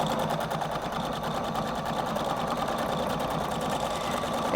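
A Husqvarna Viking Designer Brilliance 80 sewing machine runs a decorative stitch with a loud, continuous motor hum and a quick regular needle pulse, with no voices.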